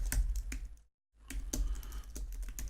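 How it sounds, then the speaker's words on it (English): Keys clatter on a computer keyboard in quick bursts, with a brief silent gap partway through, close and fairly loud. "if I could type tonight"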